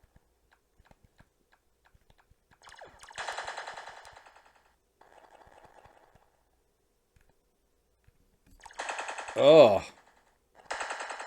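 Shooting in the video game Lost Tomb, played on an Atari Super Pocket: bursts of rapid electronic gunfire-like blips in short clusters, with a brief exclamation from a player and gaps of near silence between volleys.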